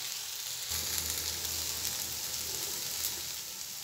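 Okra frying in a pan, a dense steady sizzle with a low bubbling undertone, close and continuous with no voices.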